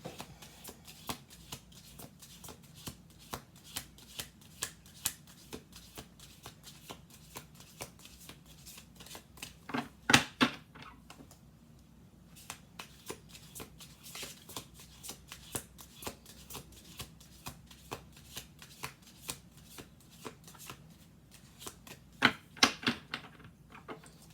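Playing cards being shuffled over and over at a table, a steady run of crisp riffling flutters with a couple of louder snaps, close and fairly quiet, with no talking.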